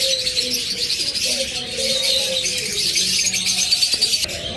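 Budgerigars and other cage birds chirp and tweet steadily in a colony aviary, a dense, continuous chatter of small bird calls close by, with someone talking over them.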